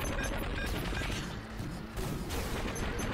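Minigun fire in the video game HAMMER, a dense, continuous roar of rapid shots that sustains loudly across the whole stretch with no pauses.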